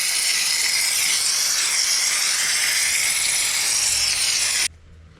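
A steamer hisses continuously while steaming tint film off a car window, a loud, close, steady rush that stops abruptly near the end, leaving quiet.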